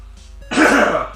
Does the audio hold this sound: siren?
no